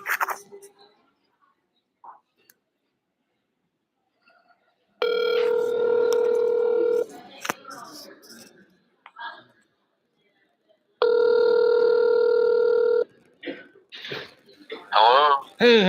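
An outgoing telephone call rings twice, each long steady ring-back tone lasting about two seconds with a silent gap between, preceded by a few short sounds and followed by a voice picking up and talking.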